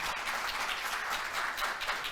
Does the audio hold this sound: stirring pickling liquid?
no